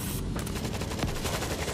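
An automated turret in the video game World War Z fires a rapid, continuous stream of shots, a loud steady rattle with evenly spaced reports and no talking.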